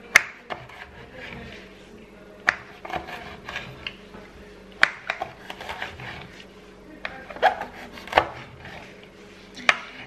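A knife cuts nopales cactus into strips on a cutting board, giving sharp, irregular chops spaced a second or two apart, close and crisp, with quiet kitchen handling noises between strokes and no voices.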